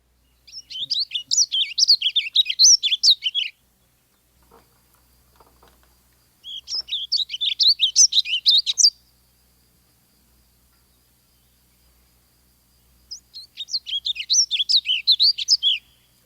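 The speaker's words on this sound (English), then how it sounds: "So let's listen to a warbling vireo." Warbling vireo song, three bursts of rapid, musical, run-on warbling separated by pauses of silence, clear and fairly close with no voices.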